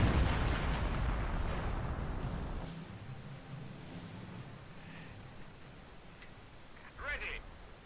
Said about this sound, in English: we see some artillery coming in on some Vet 3 conscripts over here